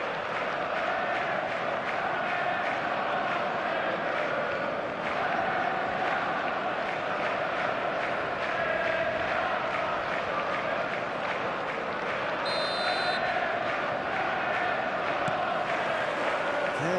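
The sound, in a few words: stadium crowd before match in eFootball video game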